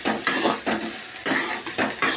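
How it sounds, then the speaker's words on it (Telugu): Ivy gourd pieces frying in a pan with oil, stirred in repeated scraping strokes about every half second over a sizzle, close and fairly loud with no talk. "దొండకాయ ముక్కలు ఏ విధంగా వేగుతున్నాయి"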